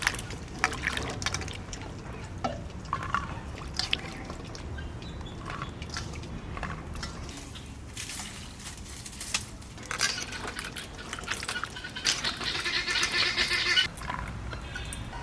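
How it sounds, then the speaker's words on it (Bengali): Hilsa fish being washed by hand in water, squeezed and rinsed with the water changed repeatedly; close wet sloshing, trickling and dripping sounds run throughout, with splashy bursts. "ভালো করে চটকে চটকে জল পাল্টে পাল্টে ধুয়ে নেবো।"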